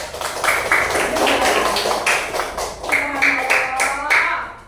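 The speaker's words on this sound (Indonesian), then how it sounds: "Tepuk tangan guys." Students in a mathematics classroom clap together in a quick rhythmic pattern, bursts of claps in steady groups mixed with their chanting voices, loud and close throughout.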